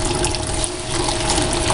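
Water runs steadily through a Blue Bowl gold concentrator, a loud, constant gush with a faint pump-like hum beneath it and no voices.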